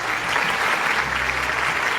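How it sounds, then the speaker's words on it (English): Audience applause at an awards ceremony, the Mindmine Summit and BML Munjal Awards, a dense, steady wash of many hands clapping at full strength throughout, with some low rumble from the hall underneath. "big round of applause."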